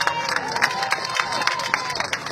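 An audience at a Papuan independence activists' gathering breaks into applause, a lively mix of clapping and crowd noise with a few cheers and murmured voices rising and falling briefly.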